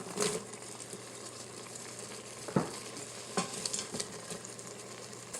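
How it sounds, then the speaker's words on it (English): Chopped carrots and orange pepper tumble into an Instant Pot that has just been deglazed, giving a low sizzle with a few sharp stirring scrapes and clatters, close and fairly quiet. "And now to that I'm going to add my carrots, and I have some orange pepper I'm trying to use up."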